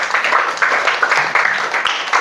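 Applause at the close of a coding and artificial intelligence training session, a steady dense wash of many hands clapping at once, fairly loud and sustained without a break.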